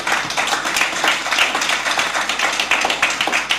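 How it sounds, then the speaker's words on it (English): Conference audience applauding a presenter, a steady dense wash of hand claps sustained throughout at a fairly loud level, with no speech over it. "We can give a round of applause to Nimrod."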